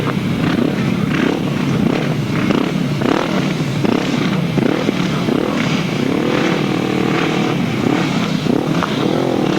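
Grasstrack motorcycles racing at a 1998 Eastern Centre championship meeting, engines roaring loudly and continuously as several bikes rev, rise and fall through the gears while passing close by.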